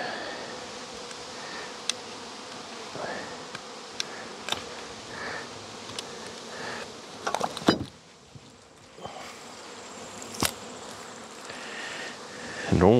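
Honey bees buzzing around a syrup feeder, a steady close hum of many insects with occasional clicks and knocks and a brief louder clunk partway through.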